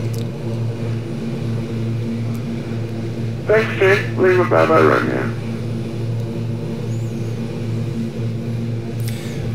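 Steady turboprop drone from a Super King Air B200 in flight in a flight simulator, a constant low hum throughout, with a brief radio voice exchange in the middle.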